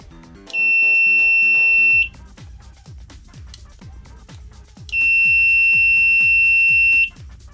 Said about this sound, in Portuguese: O bip é alto, tem a luzinha que ajuda